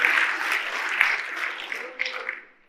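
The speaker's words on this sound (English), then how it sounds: "go ahead and clap" Conference audience clapping at an opening ceremony, a brief burst of applause that thins out and fades after a couple of seconds.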